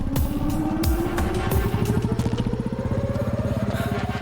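A motorcycle ridden at speed, its engine loud and close with a steady rapid pulsing as the revs climb smoothly throughout.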